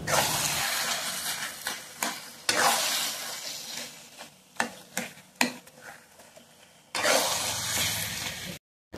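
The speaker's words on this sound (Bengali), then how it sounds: "আর মাঝে মাঝেই কিন্তু খুন্তি দিয়ে এমন নেড়ে যেতে হবে।" A metal spatula stirs taro leaves cooked with an ilish fish head in a pan, producing bursts of sizzling and hissing between sharp scraping strokes and knocks, close and fairly loud, with no voices.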